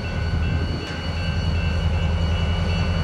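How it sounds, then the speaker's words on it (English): A CSX freight train hauling continuous welded rail passes in Fostoria, Ohio, giving a steady, loud low rumble of rolling wagons with a few faint high squeals held throughout. "here comes 8037 with the continuously welded rail train"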